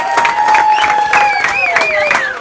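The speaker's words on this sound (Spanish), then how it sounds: "Un aplauso para Énfasis." A studio audience claps and cheers for a guest on a debate show, a short, lively burst of applause mixed with whoops and whistles.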